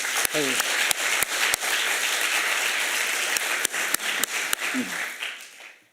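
A church congregation applauds students after a recitation, a broad wash of many hands clapping steadily for several seconds before fading out, with sharp nearby claps standing out and some voices underneath.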